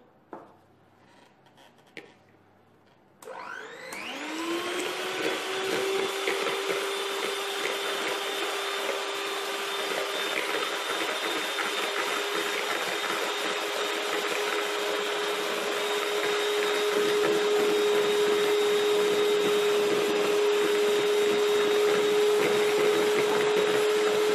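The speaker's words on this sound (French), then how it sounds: "quand je vais monter les blancs en neige, petit à petit, j'ajouterai le sucre en poudre" After a few quiet seconds, an electric mixer starts whipping egg whites with a pinch of salt, settling into a loud, steady motor whine that continues to the end.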